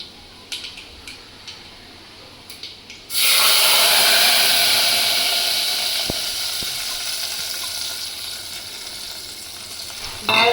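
Dal tipped into a pan of sizzling mustard seed tempering sets off a sudden loud, sustained frying hiss that stays steady for several seconds, with faint clinks of stirring, after quieter light crackling.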